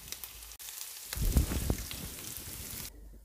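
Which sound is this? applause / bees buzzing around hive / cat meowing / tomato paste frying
tomato paste frying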